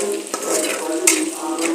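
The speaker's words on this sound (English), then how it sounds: "now I'll put the minced garlic and the ginger and fry them" Minced garlic and ginger frying in hot oil in a pan for chilli chicken, a steady close sizzle broken by a couple of sharp scrapes of a spoon stirring against the pan.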